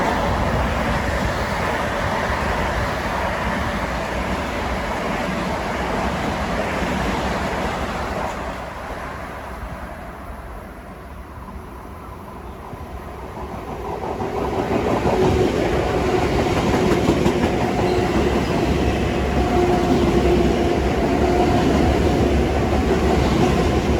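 An M9 commuter train passes Kew Gardens, a long continuous rail roar with wheel noise that dips midway then swells again as cars rumble by, heard from trackside without talk.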